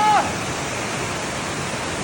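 A small waterfall close to a house on a rainy day, a constant broadband rush of falling water, loud and even, with a brief squeak at the very start.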